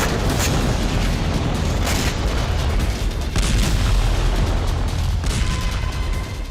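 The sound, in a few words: explosions from Russian missile strike on Kyiv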